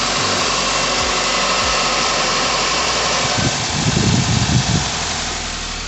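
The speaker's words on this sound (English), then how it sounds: "We're gonna shut the car off." A 2013 Nissan Altima engine idles nearby in a steady, low mechanical hum with a slight vibration, growing a little rougher and fuller toward the end, with no talking.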